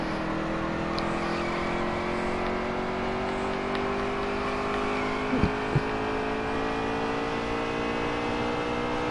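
A race car engine in a racing video game drones at a steady high pitch throughout, with layered overlapping engine tones from the car and nearby competitors, fairly loud and unbroken, with a couple of brief knocks partway through.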